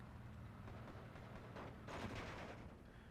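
Mortar and gunfire in the WWII strategy game Steel Division 2, with 60mm mortars firing amid a dense, rumbling battle bed; a louder burst of explosions swells near the middle and then settles back into steady distant combat noise.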